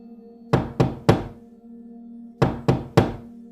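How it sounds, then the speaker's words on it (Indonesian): Knocking on a wooden door: three sharp raps, a pause, then three more, loud and close, with a steady low hum underneath. "Ia mengetuk lagi, lebih keras."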